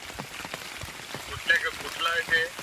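Steady heavy monsoon rain patters on a surface at a roadside works site in Talmachiwadi, Junnar, Maharashtra, with a few brighter splashes toward the end; faint voices can be heard in the background.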